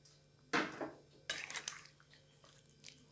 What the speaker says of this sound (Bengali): এবার আমি ডাঁটা আর আলুটা দিয়ে দিচ্ছি।